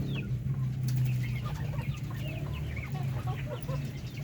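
Native chickens cluck and chirp in quick overlapping calls while pecking at feed, close and fairly loud over a steady farmyard background with no talk.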